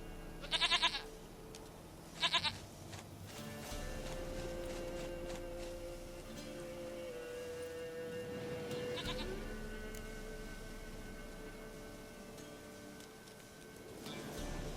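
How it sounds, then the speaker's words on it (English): A goat bleats twice in quick succession in The Witcher 3, over a steady hum of game ambience and music, fairly clear against the background. "Goat of mine, dearest, sweetest goat."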